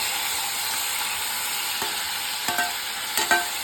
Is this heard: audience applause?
no